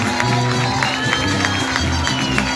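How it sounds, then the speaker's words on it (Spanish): Applause from the audience at a provincial cueca dance championship awards ceremony at an agritourism fair, a steady crowd wash of clapping and murmur with low music or voices underneath. "Un fuerte aplauso para ellos también."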